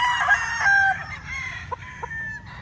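Red gamefowl roosters crow loudly at close range, overlapping calls drawn out in the first second, followed by a few short, sharp clucks and softer crowing tails with no talk.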